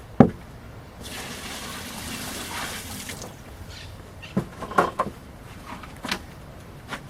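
Water pours for a couple of seconds into a clayey earth mix for straw-and-mud building blocks, followed by a few scattered knocks and clunks.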